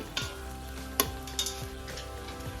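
Ginger garlic paste sautéing in an Instant Pot, with a soft steady sizzle broken by a few sharp clinks and scrapes of a spoon stirring against the pot; no talking.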